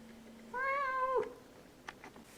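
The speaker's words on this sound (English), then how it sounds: "I'm completely surrounded by cats." A single cat gives one clear, drawn-out meow close by, with a couple of faint soft sounds after it and a quiet background.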